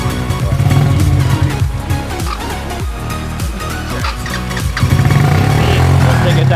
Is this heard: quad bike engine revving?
yes